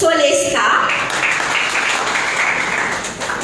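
Audience applause at an honours ceremony for young role models, a steady dense wash of clapping that carries through the whole stretch with some voices under it.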